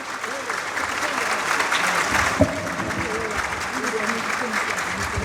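Steady audience applause at a university speaker series event, a dense wash of clapping holding level throughout with faint voices mixed in beneath it.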